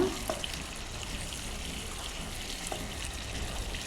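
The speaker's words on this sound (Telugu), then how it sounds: "అల్లం వెల్లుల్లి పేస్ట్ వేసుకొని కలుపుకోవాలి అది కూడా మంచిగా వేయించుకోవాలి" Ginger garlic paste frying in a pan makes a steady, fairly faint sizzling hiss, even and unbroken throughout, with no voices.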